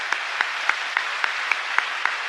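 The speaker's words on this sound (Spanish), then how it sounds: "Fuerte aplauso para el Señor" Congregation at a parish Mass applauding for the Lord, heard as a steady bed of clapping with sharp, evenly spaced accented claps about every quarter second, like rhythmic clapping along a beat.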